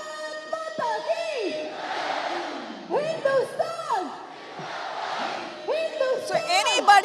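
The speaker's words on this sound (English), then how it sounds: "You can hear the crowd," A large crowd at the Attari-Wagah border Beating Retreat ceremony shouts in long, rising chant-like cries and whoops that come and go in waves, loud and echoing.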